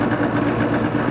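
A snowmobile engine swapped into a go-kart idles steadily, a constant mid-pitched drone up close with no talk.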